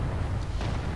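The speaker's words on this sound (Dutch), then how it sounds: "Oké, dat is dus een soort plasma kanon." A plasma cannon in the video game Space Marine fires a deep, heavy boom with a rumbling low-end blast that fills the moment, dense and loud with no voices.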